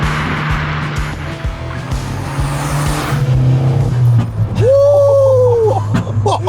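Engine-swapped 300hp VW GTI accelerating hard, a loud steady engine drone rising under road and wind noise, with a brief whine near the end.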